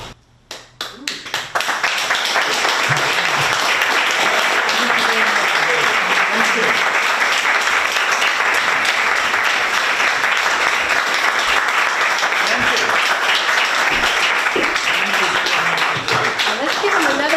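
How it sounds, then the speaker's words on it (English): Loud, dense audience applause after a poetry reading at an anniversary event, swelling up from a few scattered claps into a sustained roar of clapping, with some voices faintly beneath. "Let's give him another round of applause"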